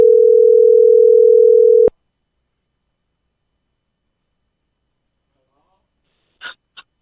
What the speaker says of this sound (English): Because people heard the tone. They know we just dialed a 562.